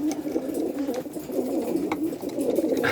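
Steady, overlapping cooing of large Janssen racing pigeons in a loft fills the air, low and throaty, with a few faint higher chirps scattered over the continuous murmur.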